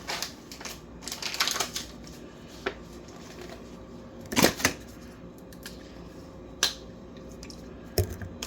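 Snack packages, including Lunchly and a Feastables shake, torn open by hand: several sharp crinkly rips and crackles in short bursts, close and fairly loud, with quiet gaps between.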